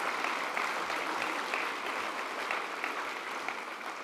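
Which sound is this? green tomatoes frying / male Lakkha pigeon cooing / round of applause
round of applause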